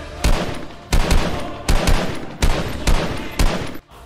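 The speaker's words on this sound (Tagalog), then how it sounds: "Nakalabit niya ang gatilyo ng kanyang baril." Gunfire from a gun in a horror audio drama about aswang, six loud separate bursts that each ring out briefly, spaced roughly evenly, with no voices.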